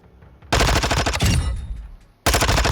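A 9mm AK-style rifle in Modern Warfare II rattles off a fast, loud automatic burst of evenly spaced shots, stops briefly, then starts a second burst, all up close with no talking.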